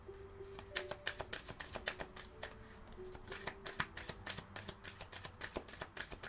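Tarot cards riffle and slap in a brisk, irregular shuffle, close up and quiet, with rapid bursts of crisp clicks and no talking.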